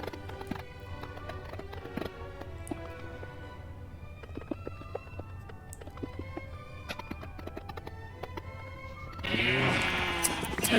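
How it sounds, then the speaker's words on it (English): Sheep in the Minecraft video game bleat near the end, over ongoing game sounds: steady clip-clop footsteps and other effects, followed by a louder burst of bleating. "we do shear some more sheep"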